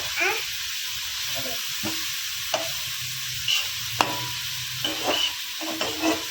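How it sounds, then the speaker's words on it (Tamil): Finely chopped onions and curry leaves are stirred and sautéed in hot oil in a pan for a chicken gravy, giving a steady close sizzle with intermittent spoon scrapes and clicks, no talking. "பொடி பொடியாக கட் பண்ணியிருக்கேன் கொஞ்சம் கருவேப்பிலை இது ரெண்டுத்தையுமே போட்டு நல்லா கிண்டிக்கோங்க"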